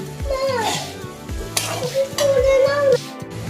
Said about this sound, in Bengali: এইদিকে আমার আলু ভাজা হচ্ছে